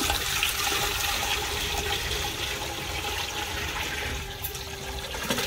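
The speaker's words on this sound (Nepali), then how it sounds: "अब त्यो अर्को पानी हालिदिँदा हुन्छ" Water pours steadily into a vessel in a village kitchen, a continuous rushing splash at close range that eases slightly toward the end, heard alone without voices.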